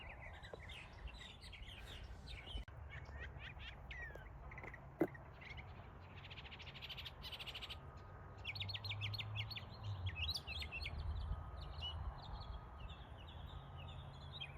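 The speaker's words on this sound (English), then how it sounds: "Yep, Florida state bird, the Florida mockingbird." A Florida mockingbird sings amid other birds chattering outdoors, with bright, varied chirps and tweets in quick phrases over a low, constant background hum, fairly distant and moderately faint.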